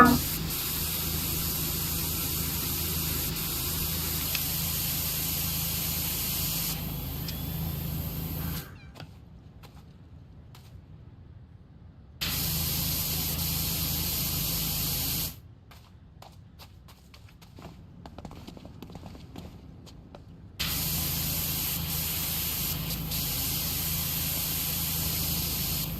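Pressure washer spraying in the PowerWash Simulator video game, a steady broad hiss that cuts out twice for several seconds of near silence before resuming at the same level.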